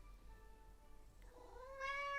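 A cat meows once, a close, clear, rising call near the end, after a quiet stretch with no talking.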